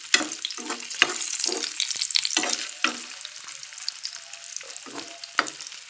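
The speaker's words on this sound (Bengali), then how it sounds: "তো চলো পনিরটা ভেজে নিই।" Paneer frying in a pan with a steady crackling sizzle, broken by repeated scraping strokes from stirring. The cooking sounds are close and fairly loud, and no one speaks over them.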